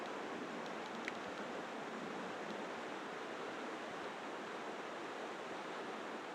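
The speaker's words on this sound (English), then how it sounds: "Got by a nice river." Steady broadband rush of a river flowing right along the water's edge in a scenic Colorado mountain landscape near Lizard Head Pass, continuous and fairly close, with no talk over it.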